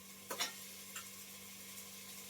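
Tomato pieces hit a hot pan in a home kitchen, giving a couple of quick soft scraping stirs over a faint steady sizzle, quiet and close.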